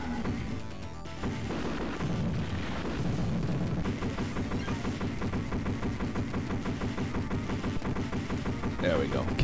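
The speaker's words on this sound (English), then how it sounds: "At least I can shoot them." Rapid gunfire and blasts from the 1991 Smash T.V. arcade game run continuously alongside busy game music and effects, with someone talking over the action.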